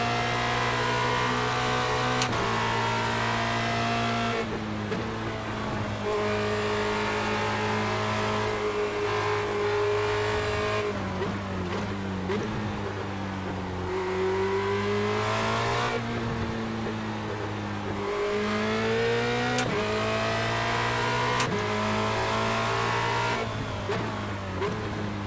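Formula Renault 2.0 race car engines at Interlagos in iRacing: a steady, loud engine drone that rises and falls in pitch through upshifts and downshifts, with brief gear-change breaks across the lap, and no talking.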